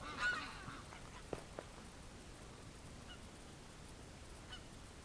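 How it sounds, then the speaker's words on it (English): A duck quacks inside a house during winter, heard as a few faint, muffled honking quacks near the start over quiet background hiss. "I can hear the duck in the house quacking."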